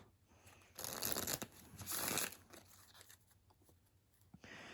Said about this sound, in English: afterwards you would shuffle up the entire deck and deal it back out